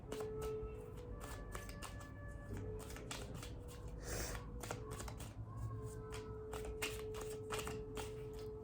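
Tarot cards being shuffled by hand in quick repeated riffles and slides, close and crisp, with soft rustling and a faint hum underneath and no speech.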